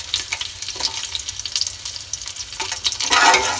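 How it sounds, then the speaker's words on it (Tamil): Green chilli, cloves, cardamom and bay leaf frying in hot oil for chicken drumstick biryani give a steady close crackling sizzle with scattered pops, rising louder near the end. "இந்த பச்சை மிளகா, இந்த தாளிக்க வேண்டிய இந்த கிராம்பு, ஏலக்காய், பிரிஞ்சலை எல்லாத்தையும் போடணும்"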